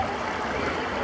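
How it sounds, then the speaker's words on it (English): A small brook flows beneath a park bridge on a rainy day, giving a steady, close, even rush of running water with no break. "And it's a pretty little brook of some kind."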